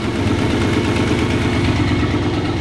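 The engine of a heavily modified Volvo sleeper runs at operating temperature, its cooling fan switched on, giving a loud, steady, close-up drone with a constant fan whoosh and light mechanical clatter.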